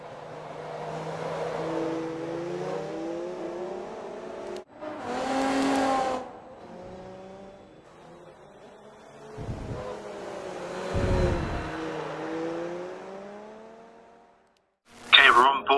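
An on-board race car engine revs and sweeps up and down through the gears on lap 13 of a GPC Round 2 race, loud and steady with short drops between pulls and a sharp burst near the end.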